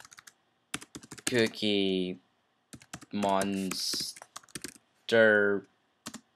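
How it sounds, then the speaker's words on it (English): Rapid clusters of keystrokes on a computer keyboard as text is typed into Cinema 4D, the clicks falling in the pauses between a person's nearby speech. "And you can type in whatever you want. So I'll just type in like"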